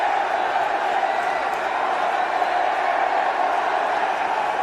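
A large cricket stadium crowd at Sachin Tendulkar's last Test match against the West Indies, a steady, dense roar of murmuring and cheering spectators that holds at an even level throughout.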